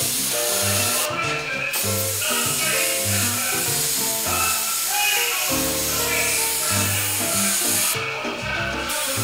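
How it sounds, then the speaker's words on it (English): A spray gun blows air to dry freshly painted flames on a custom hot rod, giving a close, continuous hiss with low, uneven thumping underneath. "I'm just blowing air on the item that I'm spraying because I want it to dry."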